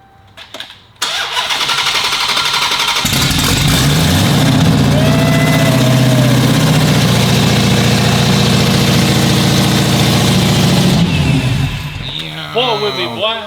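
A Dodge Hellcat engine cranks and fires with a loud bark after a brief click, then settles into a steady, rumbling idle close by, with voices over the end.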